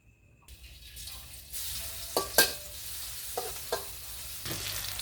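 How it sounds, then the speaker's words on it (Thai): Minced fish meat stir-frying with garlic starts from near silence, then a sizzle swells up, with a few sharp scraping stirs and clatters of a utensil in the pan. "เอาเนื้อปลาที่เขาสับเดี๋ยวไปผัดนี่กระเทียม"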